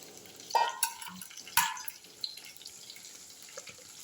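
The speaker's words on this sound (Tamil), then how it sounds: "இந்த புளி தண்ணி வேஸ்ட் ஆகானா இதையும் ஊற்றிட்டு" Tamarind water splashes and trickles into a pan in two short pours, followed by faint dripping and quiet kitchen clatter.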